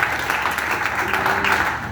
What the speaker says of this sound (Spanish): Vamos, suelta ese aplauso, porque es para Dios